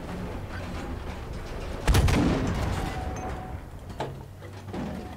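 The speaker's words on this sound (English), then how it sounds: "Oh, those are our flak cannons." Flak cannons firing in a video game: a heavy, booming blast followed by a rumbling decay, then a fainter second report, over steady background noise.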